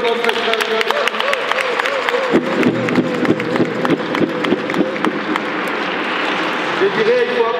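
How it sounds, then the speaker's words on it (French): A church congregation at Easter applauds steadily, a dense continuous patter of many hands clapping, with a voice talking over it and faint musical tones underneath. "Applaudissez aussi pour notre frère Lionel."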